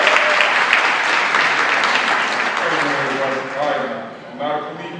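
A comedy-club audience applauds the arriving speaker, a loud dense burst of clapping that fades over a few seconds as a voice starts talking near the end.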